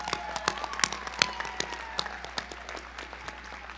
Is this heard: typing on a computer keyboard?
no